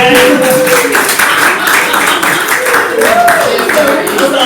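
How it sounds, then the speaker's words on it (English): An audience claps at a talk, scattered applause running under a loud voice that keeps speaking over it throughout. "can we have another clap again?"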